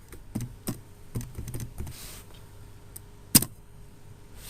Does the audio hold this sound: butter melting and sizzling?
no